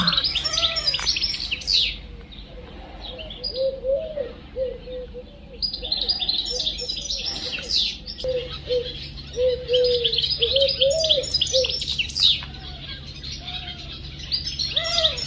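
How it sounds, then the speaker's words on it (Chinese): Small birds chirp and twitter repeatedly in the early morning outside a guesthouse during an Italian summer, with bright calls coming and going over steady low background hum, some cooing mixed in; no talk. "一早小鸟就叫了，"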